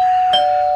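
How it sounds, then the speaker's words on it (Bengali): A doorbell rings once in a Bengali adventure audio story: a short, clear electronic chime, close and loud, with nothing else around it. "ভয়ে ভয়ে কলিং বেলটা বাজালো"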